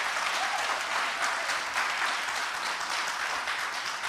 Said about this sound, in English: If you can give the actors another round of applause.